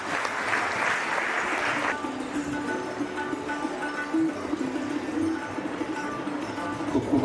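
An audience at a community award ceremony applauds the winners in a brief, full burst of clapping that quickly fades into a low murmur and background hum.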